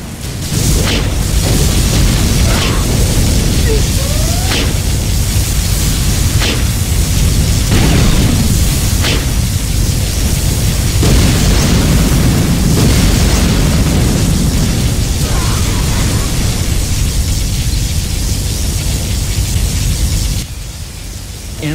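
A particle cannon strike in a Command and Conquer Generals battle, a loud sustained roaring blast with rumbling booms and bursts, dense noise throughout and a brief drop near the end.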